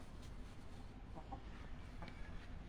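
A rooster clucks faintly in the distance, a few brief calls over a low background rumble.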